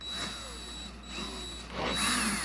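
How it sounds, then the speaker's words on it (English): A power drill whirs in short bursts as its bit re-bores a bolt hole in a skateboard deck, the motor rising and falling close by with no talking. "Just take your drill bit again and just go in there"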